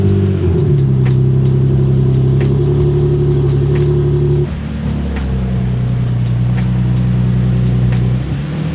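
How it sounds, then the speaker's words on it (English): A Nissan 370Z with a leaking exhaust idling roughly after a cold start, a loud steady close-up drone with a brief dip midway before settling into the same uneven rumble. "let me give you guys a solid cold start"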